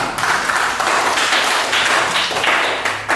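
A primary school class claps hands together in a classroom, a sustained burst of dense, loud clapping with rhythmic pulses running for several seconds.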